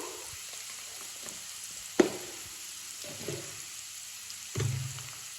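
Food fries gently in a pan with salt and turmeric while a spoon knocks and stirs it, giving a soft sizzle with a sharp clink and a brief louder scrape near the end.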